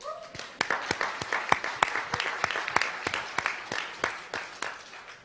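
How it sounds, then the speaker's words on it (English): An audience at a world leader summit clapping: a few close, sharp individual claps stand out above a softer bed of scattered applause, irregular and moderately loud throughout. "And you can clap. Go ahead, let's clap."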